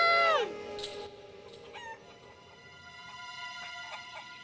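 Chickens and a rooster on a farm, with a loud crow at the start, then scattered clucks and calls over a steady background of birdsong.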